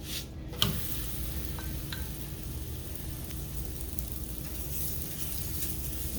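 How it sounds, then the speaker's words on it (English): Roti brushed lightly with oil cooks on a hot pan for a Guyanese-style meal, giving a steady, moderately loud sizzle throughout with a single soft knock near the start. "You brush with oil lightly and you turn your roti."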